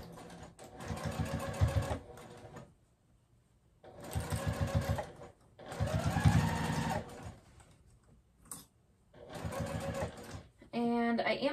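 A sewing machine stitches around a tote bag in long motorized bursts of rapid needle clatter, stopping and starting four times with short pauses between, close and loud.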